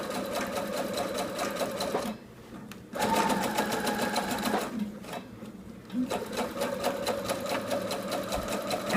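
A sewing machine runs basting stitches along the edge of a prairie apron, whirring steadily and loudly up close in long runs, broken by two short pauses where the motor stops.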